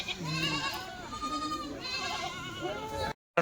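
Rajasthani bucks bleat several times in quick succession, close by, as people talk over and between the calls.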